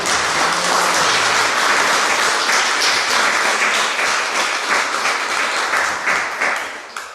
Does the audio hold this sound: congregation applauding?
yes